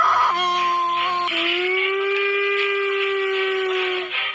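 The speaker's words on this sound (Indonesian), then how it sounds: "Lalu dengarkan suara serigala berikut ini." A wolf howls in one long, sustained wail that rises briefly at the start, then holds a steady, slightly falling tone for several seconds before fading. The howl is loud and resonant, and no one speaks over it.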